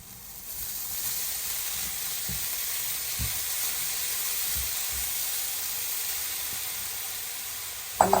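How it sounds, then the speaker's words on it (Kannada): Jaggery and coconut heat in a pan for a sweet Mangalorean filling, giving a soft, steady sizzling hiss with a few dull taps and a brief clatter at the end. "ಅದಕ್ಕೆ ಸ್ವಲ್ಪ ಬೆಲ್ಲ ಕರಗಿಸ್ತೇನೆ."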